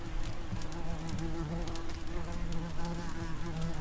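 A wasp buzzes steadily and continuously in the Second Life video game, a close, even drone with no pauses.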